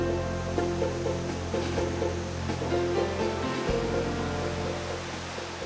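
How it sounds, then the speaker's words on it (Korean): Mountain valley waterfall pouring down in a forest, a constant, full rushing roar of falling water with no breaks, close and loud throughout. "그곳에는 마을의 자랑 폭포가 있습니다."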